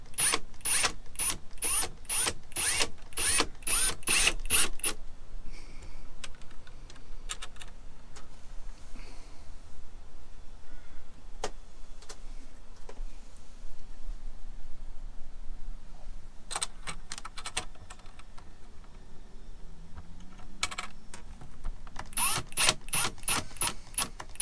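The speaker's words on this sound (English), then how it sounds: "finish it with the screwdriver" A screwdriver ratchets a screw in with a fast run of clicks at the start and again near the end, separated by a long quiet stretch with a few isolated ticks.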